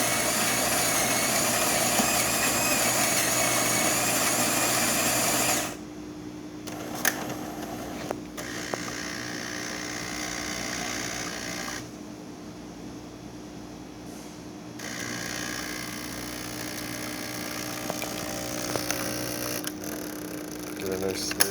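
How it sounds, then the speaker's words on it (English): A freshly serviced Jura C65 automatic espresso machine grinds beans in a loud, steady whir for several seconds, then settles into quieter pumping and brewing hums broken by short pauses and clicks. "let's go ahead and make an espresso"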